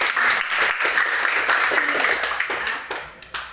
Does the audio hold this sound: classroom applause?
yes